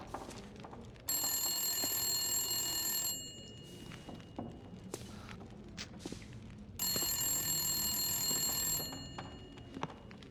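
Old-style telephone bell in the video game The Long Dark rings in two long bursts with a quiet gap between them, bright and insistent, over a low indoor ambience with faint thumps.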